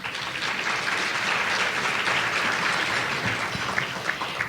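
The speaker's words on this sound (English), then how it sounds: "We give them a round of applause." A luncheon audience applauds in a dense, steady crowd clapping that carries on at even loudness throughout.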